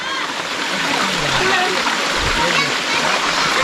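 Rakachi Amman temple waterfall, reached on a forest trek, pours with a constant rushing, splashing roar, while someone talks over the water.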